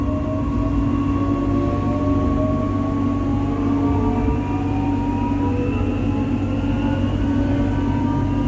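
A Jakarta LRT light rail train runs along the track with a steady low rumble and rising and falling whining tones from the motors, continuous and fairly loud throughout.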